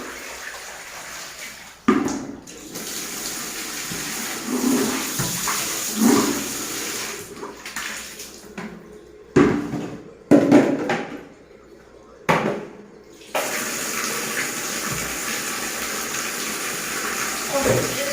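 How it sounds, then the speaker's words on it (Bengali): Tap water runs while dishes are washed at home, a steady splashing flow broken by gushes, clatter and brief pauses, with someone talking intermittently over it. "বাসন কাটা মেজে নিই"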